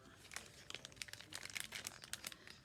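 A clear plastic bag crinkles as it is opened, producing quiet, irregular bursts of rustling and crackling that come close together throughout, with no other sounds around it.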